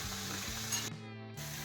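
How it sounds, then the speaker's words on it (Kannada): Bitter gourd stir-fry frying in hot oil on a biogas stove, giving a steady close sizzle with low bubbling throughout, briefly quieter midway before the frying noise returns. "ಇದು ಕೊತ್ತ ಕೊತ್ತ ಕೊತ್ತ ಕುದೀತಾ ಇದೆ."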